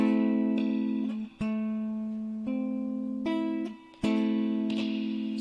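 A minor triad built up on A, played as separate notes: a sustained low tone joined by further struck notes, then the full chord sounding together, a sequence of several clear attacks ringing alone.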